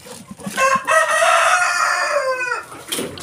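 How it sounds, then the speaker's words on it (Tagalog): On a heritage chicken farm with small chickens, a rooster lets out one loud, drawn-out crow that ends abruptly, with brief clucking and scuffling before and after it. "Dito yung maliliit na manok."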